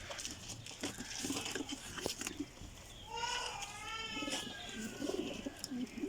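Flying pigeons cooing in a loft, a soft throaty coo rising clearly midway through amid scattered rustling and faint background murmur, fairly quiet overall.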